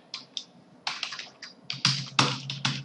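Fingers type a terminal command on a computer keyboard in short clustered bursts of crisp, close clicks with brief pauses between, and no talk.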